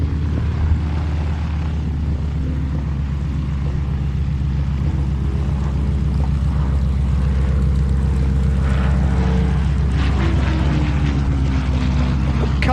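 Spitfire Mark V fighter with a propeller engine flying at an airshow, a steady loud drone with low rumble and a slight rise in pitch near the end, heard without talk.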